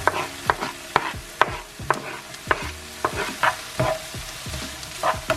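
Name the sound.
garlic frying in a pan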